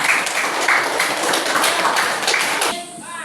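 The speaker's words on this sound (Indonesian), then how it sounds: "Ada tepuk tangan untuk kelompok 1." A classroom group claps for a presenting team during a peer-teaching lesson, loud sustained clapping with a brisk patter that cuts off near the end, leaving a brief quieter tail.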